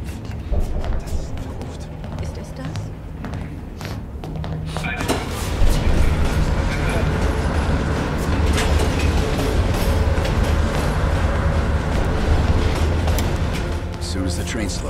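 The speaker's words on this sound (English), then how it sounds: "As soon as the train slows down, you and I'll jump off." A train rumbles along steadily in the Call of Duty: Black Ops Cold War video game, with a continuous loud rattle and clatter of wheels and carriages that grows fuller partway through, heavy low rumble throughout.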